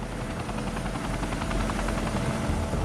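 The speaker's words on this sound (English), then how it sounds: "Chinook helicopters are drafted in to dump water from the air." Chinook helicopters thump overhead, their twin rotors beating in a steady, loud chop over a dense roar of engine and wind that holds constant throughout.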